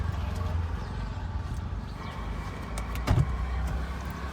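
A Hyundai Verna SX (O) diesel automatic with push-button start, its engine a steady low rumble throughout, with a brief louder surge near the end.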